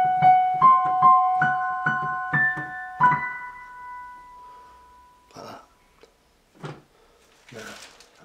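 Solo piano picks out the opening of a piece from Twilight: a quick run of single notes up to about three seconds, a held tone that fades, then a few soft knocks and shuffles with no talking.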